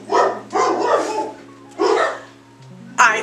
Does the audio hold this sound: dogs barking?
yes